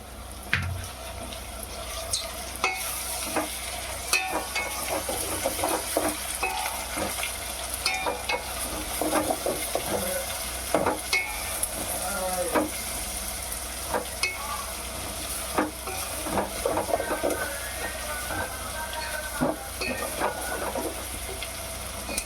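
A small chopped tomato sizzles in oil for a Rayalaseema-style prawn and green peas curry, a constant close frying hiss broken by scraping stirs and light clatter, with no voices.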